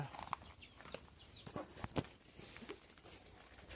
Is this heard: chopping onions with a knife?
no